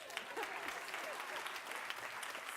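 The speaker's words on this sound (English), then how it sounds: "can we clap again?" An audience at a sanitation and water conference's closing plenary claps again, a soft, distant patter of many hands with faint murmuring voices mixed in, fairly quiet but continuous throughout.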